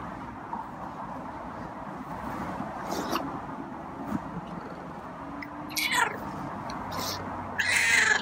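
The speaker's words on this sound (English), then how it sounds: "So there's a friendly cat in there after all." A friendly, formerly feral cat meows a few times close by, with short faint calls over steady room hiss and a brief louder burst near the end.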